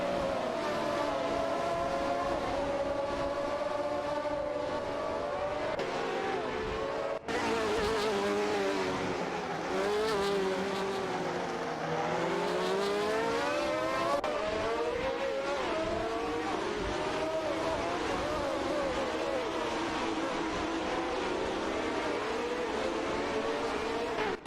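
Race cars in an October 2024 AI racing event roar past continuously, engines whining and shifting pitch as they accelerate and sweep through turns, loud and close with a brief cut midway; a faint voice sits under the engines.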